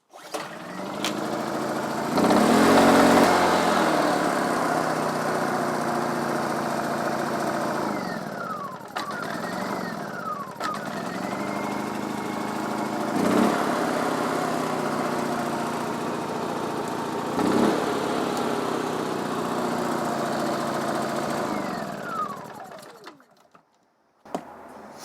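A Honda EU2000i portable generator engine runs hard at full throttle, a steady loud drone with brief surges and dips, then cuts off near the end.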